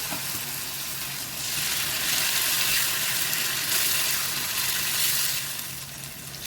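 Blended tomato paste sautés in oil in a pan with a steady, close sizzle that swells louder midway through, then eases back, with faint stirring scrapes.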